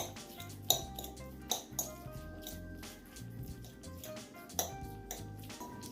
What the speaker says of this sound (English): I'm just going to use my fork and flake it up a bit, like so.